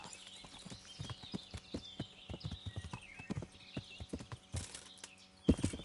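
Rhythmic clip-clop of horse hooves at a steady walking pace in the video game Kingdom Come: Deliverance, close and clear, with a brief neigh-like sound and a louder thump near the end.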